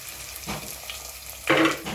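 Crushed garlic and ginger sauté in a hot pan for a sardine curry with ground coconut, giving soft sizzling with two brighter bursts of frying and stirring, no voices.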